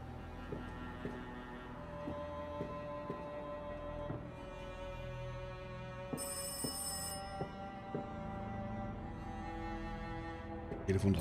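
A telephone rings in the video game Rise of Insanity, in a steady repeating pattern of short bursts, fairly quiet, over a soft electronic background.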